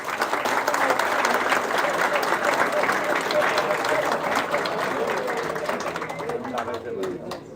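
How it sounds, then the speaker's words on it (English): A large crowd at a graduation convocation ceremony applauding steadily and loudly, the clapping sustained throughout before tapering slightly at the end. "big round of applause for all of them"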